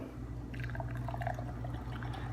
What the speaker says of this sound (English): It was somewhat of an aggressive pour here to try to generate some head.